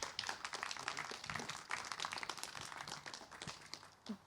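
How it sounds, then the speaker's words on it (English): Applause from an audience at a teach-in talk, a faint round of clapping that runs steadily and fairly evenly throughout, distant and soft. "Another round of applause for both Matan and Yassar."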